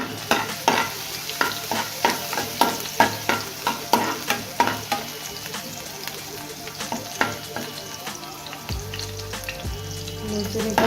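Garlic fries in hot coconut oil for a Goan sardine ambot tik, sizzling steadily up close while a spatula stirs and scrapes in a regular rhythm of sharp clacks.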